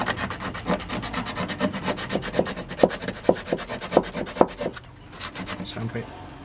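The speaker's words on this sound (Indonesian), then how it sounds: "Kita amplas." Rapid back-and-forth scraping of sandpaper on a truck's steel, a rhythmic rasp of quick strokes, close up, pausing briefly near the end before resuming.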